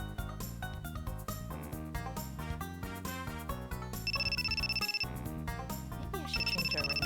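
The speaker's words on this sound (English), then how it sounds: "Maybe I should change our ringtone." A phone ringtone from the video game Sakura Wars V chimes out in repeating electronic bursts over busy background music, sounding twice in the passage with no speech.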